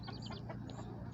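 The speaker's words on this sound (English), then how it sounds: "here's the chickens, the baby chickens too at the same time" Baby chicks cheep in a pen shared with grown chickens and other fowl, a run of high, thin peeps repeating close by over a steady low farmyard murmur.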